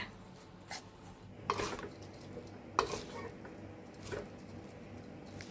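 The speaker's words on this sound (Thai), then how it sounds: "เวลาคลุกก็ใช้ตะหลิวสองอันช่วยกันค่ะ คลุกให้ทั่วถึงเลยนะคะ" Crispy fried rice vermicelli tossed in a pan with two spatulas, soft rustling and stirring with a few sharp metal clinks of spatula on pan, fairly quiet and close.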